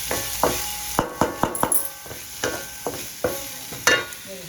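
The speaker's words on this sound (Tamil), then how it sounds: "ஒரு பச்சை மிளகாய் எல்லாம் போட்டு நம்ம அதை வந்து கொஞ்சம் வதக்கணும்." Green chilli sautéing in a pan for beetroot poriyal, mostly heard as a series of sharp, close spoon clacks and scrapes against the pan in an uneven rhythm over a faint background sizzle.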